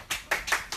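Four quick, sharp bursts of hand clapping sound in an uneven rhythm, close and fairly loud, with no talk over them.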